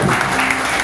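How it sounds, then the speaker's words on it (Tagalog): A church congregation at a Sunday service claps briefly, a dense burst of applause heard close and fairly loud. "Natawa lang ako kasi parang pilit-pilit yung palakpak."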